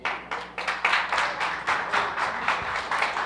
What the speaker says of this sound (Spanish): ¿Cuánto le dan un aplauso a Jesús, hermano?